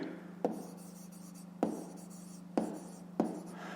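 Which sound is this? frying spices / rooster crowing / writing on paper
writing on paper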